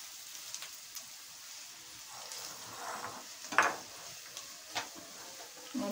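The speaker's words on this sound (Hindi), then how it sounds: "नमक ये अच्छी तरह से मिक्स कर देंगे इसे।" Salt, turmeric and chana dal with bitter gourd are stirred in a pan, giving soft scraping and a light sizzle with a few sharper clinks, low in level and with no talking.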